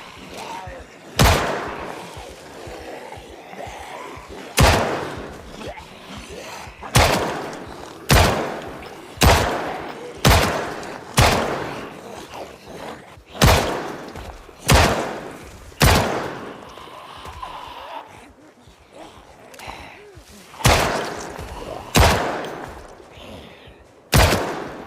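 Single gunshots ring out in Project Zomboid, about fifteen sharp reports spaced a second or two apart, each with a short decaying tail over a low game ambience.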